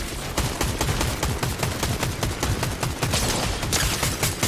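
Rapid, continuous gunfire in an online shooter video game, with dense overlapping bursts of shots rattling without pause for the whole stretch.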